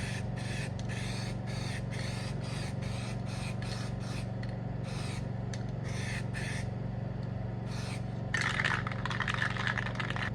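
Aerosol spray paint applied in short repeated bursts over masking tape on a Commodore car's surface rust repair, each hiss lasting about half a second with brief gaps, over a steady low hum, with a longer rougher burst at the end.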